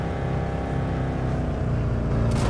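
Loud, steady engine drone of a car in the Thief Simulator VR video game, a continuous rough rumble held at constant level throughout, close and without talk.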